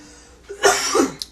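A single close cough from an adult indoors, a short harsh burst with a brief rougher tail, then a small click afterward; no talking.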